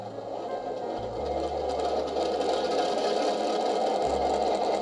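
Engine sound plays from scale sound system speakers on a model track: a steady, loud humming drone with a low throbbing undertone that continues without a break.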